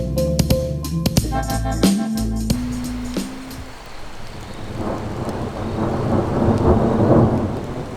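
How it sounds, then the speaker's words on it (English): A night thunderstorm on the Old Grafton Road near Coffs Harbour and Grafton brings loud rolling thunder that swells into a heavy, continuous downpour of rain, after a few brief clattering and tonal noises at the start. "this storm's really moving in"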